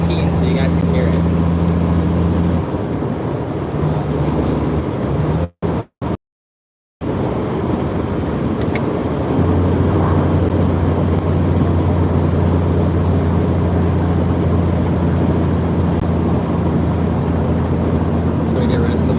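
A manual truck engine drones close and steady with wind noise, then its tone drops and changes partway through as it shifts gears, with a brief dropout before the lower hum settles back in.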